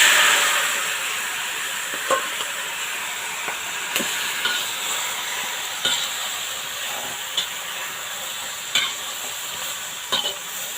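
A pot of bone broth for a mixed-vegetable chap chai soup simmers with a steady, airy hiss. Soft clicks and bubbling pops recur every second or two, with no one talking.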